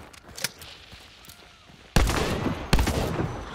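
Two loud, close shotgun blasts loaded with flechette ammo in Hunt: Showdown, following a sharper earlier crack and faint background shots, each blast ringing out briefly after firing.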